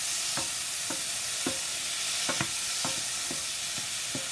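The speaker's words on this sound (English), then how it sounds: "our veggies in this pan to saute them a little bit" Vegetables sautéing in a pan while being stirred, with a steady soft sizzle underneath and repeated scraping strokes of a utensil at a fairly even rhythm, close up and without talk.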